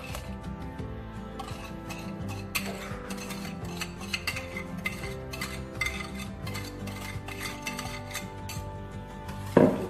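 Lemon cream of eggs and sugar being stirred in a pan, a soft continuous scraping and rubbing with light clinks of utensil on metal throughout, a louder knock at the very end.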